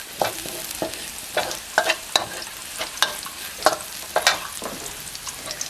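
Chili and garlic stir-fried in a wok, with quick, irregular clanks and scrapes of a spatula over a crackling sizzle, loud and close, with no voices.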